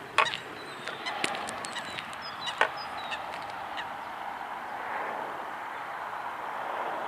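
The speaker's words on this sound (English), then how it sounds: "A couple of more hens down there." Faint hen calls near the old Roman Watling Street, the A5183, beside the River Ver, a few scattered clucks and honks over steady outdoor background noise.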